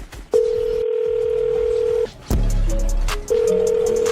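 A steady telephone dial tone sounds loud and close, breaks off briefly, then resumes after a burst of clatter and handling noise as a phone call is placed.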